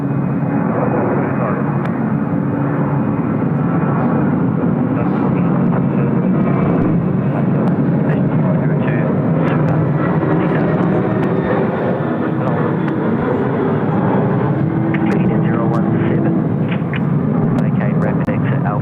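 An airliner takes off from runway 34 left at Sydney Airport, a loud, continuous roar of jet engines that holds steady throughout, with radio talk over it.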